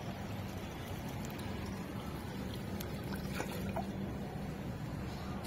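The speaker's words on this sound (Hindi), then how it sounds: "मैं कबूतर के लिए पानी भर रहा हूँ मैं, तो अभी पानी लगा रहा हूँ।" Water steadily poured into a dish for pigeons on a rooftop, a continuous even splashing rush from start to finish, close and fairly quiet, without speech.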